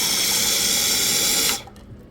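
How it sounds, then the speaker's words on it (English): Hot water pours steadily from a coffee-shop hot water dispenser into a cup, a loud, close hissing stream that cuts off sharply near the end, leaving a quiet tail. "you'll fill up hot water from here, because this is the hottest water we have"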